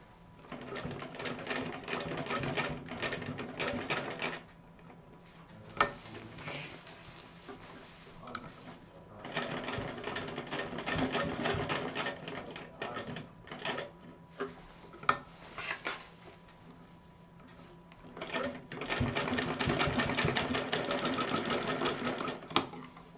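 Sewing machine stitching a double seam on a purse, bursts of rapid rhythmic needle clatter lasting several seconds each, separated by brief pauses with light clicks and handling sounds, close and steady.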